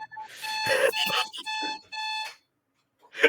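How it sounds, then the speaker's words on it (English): Alarm clock ringing during a co-streamed game match, a series of loud, bright electronic tone bursts in quick rhythmic runs, close and alone, ending with a brief extra chirp. "Was that your alarm to wake up?"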